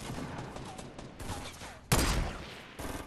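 Sniper rifle fire in Fortnite, a single loud, sharp crack with a short tail, preceded by game ambience and clatter.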